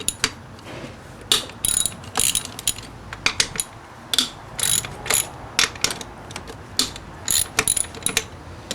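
Ratchet clicking in repeated bursts while evap equipment is removed from the engine of a 1995-1999 Nissan Maxima, sharp close metallic ratcheting with short pauses and no talk.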